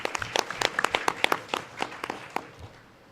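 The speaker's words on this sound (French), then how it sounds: "Je vous demande de les applaudir." A conference audience at a closing ceremony applauds with scattered, uneven hand claps that thin out and fade to quiet within about three seconds.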